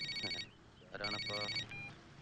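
A mobile phone ringtone plays as a short electronic melody in two bursts, fairly faint and close, with nothing else prominent around it.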